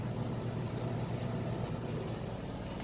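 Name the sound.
Samsung front load washer spinning very fast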